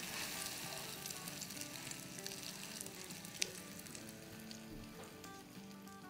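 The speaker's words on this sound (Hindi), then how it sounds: "बस इसको अंडे में डिप करके, जो अंडे का मिक्सचर है उसमें हम फ्राई कर लेंगे" Egg-dipped bread frying in oil, a soft continuous sizzle with small crackles and one sharp pop, heard quietly and without talk.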